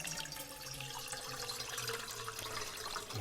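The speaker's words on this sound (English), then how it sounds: "Ooh, water's running very slowly, as it turns out, for some reason." A tap running slowly, giving a soft, steady trickle of water that continues evenly throughout at low volume.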